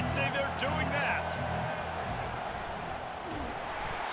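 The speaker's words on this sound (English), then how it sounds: "They challenge this crowd to bring the energy, and I'd say they're doing that." Stadium crowd noise from a college football game in EA Sports College Football 25, a steady roar of cheering that holds throughout, with a commentator talking over it.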